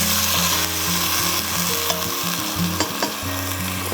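Liquid poured into a hot skillet sizzles and crackles loudly and continuously, close up, with a few clinks of utensil stirring.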